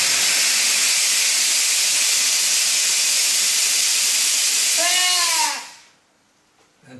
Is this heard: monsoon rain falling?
no